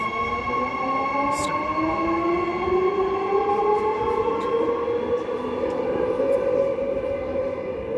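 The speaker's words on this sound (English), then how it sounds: "That train heading to Perth." Suburban electric passenger train on Perth's Ellenbrook Line near Bayswater station, a steady loud rumble with rising and falling tonal whine and brief higher squeals, continuous throughout.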